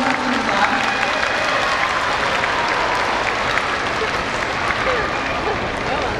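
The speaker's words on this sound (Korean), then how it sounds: "여러분 박수로 좀 격려 부탁드립니다." An audience at an outdoor writing contest event claps steadily, a dense wash of applause that carries on evenly for several seconds without a break.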